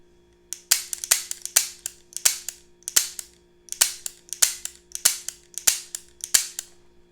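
Rapid shots from a Beretta 92S pistol crack out in a fast series of about a dozen loud, sharp reports with short echoing tails, evenly paced, close by and with no talking.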